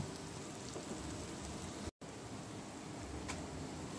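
Chicken pieces sizzle in a hot pan with onion, salt and turmeric and no water, for a Korean-style dish: a steady, soft hiss of frying broken by one very brief silent gap, with no voices.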